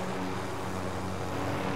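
Helicopter in a battle royale video game, a steady droning rotor and engine hum holding at a constant level without pause.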